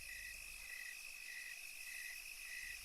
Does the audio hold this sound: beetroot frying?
no